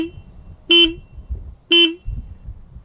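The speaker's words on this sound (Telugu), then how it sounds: "లౌడ్ హార్న్ ప్రొవైడ్ చేస్తున్నారు" Two short, loud blasts from the horn of a TVS Ronin Agonda Edition motorcycle, about a second apart, sounding clearly over quiet background noise.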